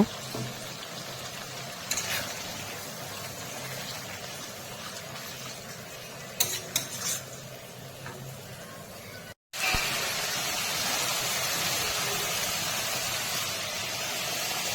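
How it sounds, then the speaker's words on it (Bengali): Spices with salt and turmeric frying in a pan with a little water for a boal fish curry give a steady close sizzle and hiss, with a few scraping clatters and one brief break midway. "হালকা জল দিয়ে মশলা ভালো করে কষিয়ে নেব"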